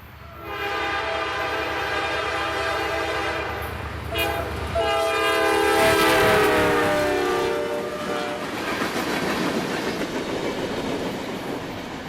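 A train horn blares in long sustained blasts as a Norfolk Southern freight train rumbles past a nearby crossing, followed by the steady clatter and roar of rolling cars.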